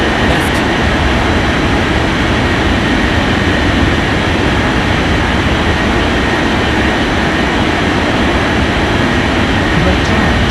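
A jet airliner takes off from runway 34 left in an air traffic control game, producing a loud, continuous broadband roar that holds steady from start to finish with no pauses.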